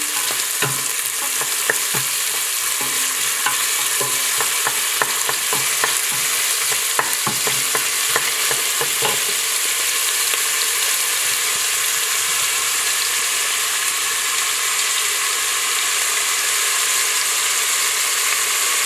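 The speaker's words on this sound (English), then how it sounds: "I'm going to add the onions and garlic. At first, I'm going to stir a little bit." Chopped onions and garlic frying in a hot pan for ratatouille while a utensil stirs them, giving a steady loud sizzle with a cluster of scraping, clicking strokes in the first half before the sizzle continues alone.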